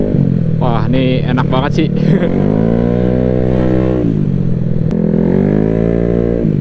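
Motorcycle engine revving as the throttle opens, running on benzol fuel just back from a workshop; a steady loud idle-to-rev drone with rising and falling pitch sweeps, with someone talking over it.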